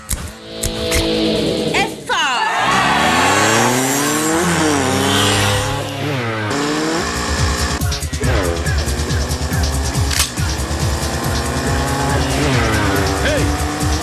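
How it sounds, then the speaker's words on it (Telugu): A car brakes hard with its tyres screeching in long, loud, wavering squeals that sweep up and down over an engine roar, with a brief voice heard amid the skid. "బ్రేక్స్"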